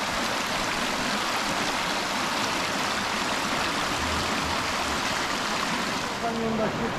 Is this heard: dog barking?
no